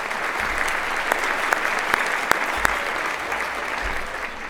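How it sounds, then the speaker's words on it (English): A fundraising gala audience claps steadily and densely at close range for several seconds, with a few sharper individual claps standing out. "You can clap for that"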